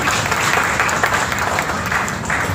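An audience applauds at the opening of the Coforge Public Library in Delhi. Many hands clap in a thick, even roar that stays steady and loud throughout, with no voices standing out.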